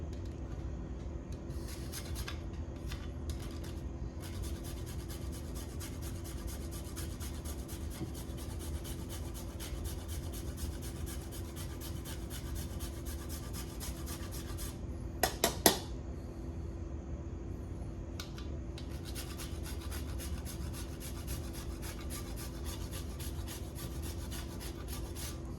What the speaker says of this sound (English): And I need my grater for that as well.